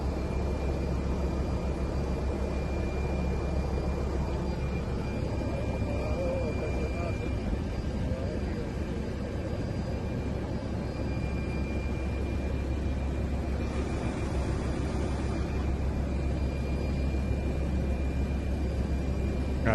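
A steady, whooshing rotor roar like a helicopter fills the air continuously, a loud broadband drone with no pauses, coming from a drone.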